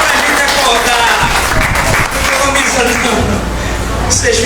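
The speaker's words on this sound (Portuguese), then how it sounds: "Vamos aplaudir o Senhor, para a gente acordar." Church congregation clapping along together, a dense steady wash of applause filling the room throughout, with voices mixed in underneath.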